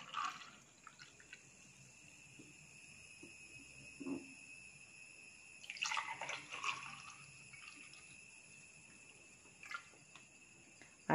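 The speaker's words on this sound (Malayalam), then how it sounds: "ഇനി നമുക്ക് ഈ ഗ്ലാസ്സിലോട്ട് ഒഴിക്കാം." Homemade nutmeg wine is poured into a glass: faint, quiet trickling and splashing with a few soft clinks, loudest around the middle, over a hushed room background.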